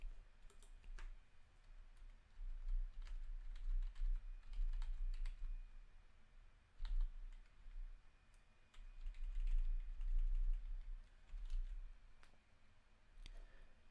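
A computer keyboard is typed on steadily as a credit card number is entered, with quick, close clicking keystrokes in bursts and short pauses, quiet and without talk.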